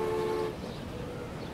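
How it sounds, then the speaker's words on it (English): A train departing a station in the railway simulation Transport Fever, a short horn toot followed by a low rumbling roll of the train moving off, moderately quiet. "As a train pulls away, perfect timing."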